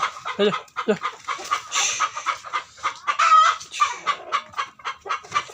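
Tiger-breed chickens clucking close by, a busy run of short repeated clucks and squawks from several birds, with no pauses.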